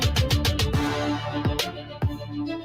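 A dense produced beat blends drill and trap drums with orchestral strings and bagpipes, heard as a rapid run of punchy kick hits followed by sparser heavy booms under a thick sustained melodic layer.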